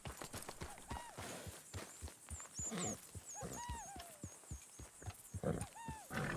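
A horse in Red Dead Redemption 2 gallops in rapid rhythmic hoofbeats, with snorts and bird calls over the outdoor game ambience.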